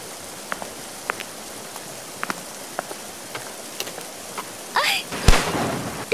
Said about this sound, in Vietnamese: Trời ơi, lại còn mưa nữa.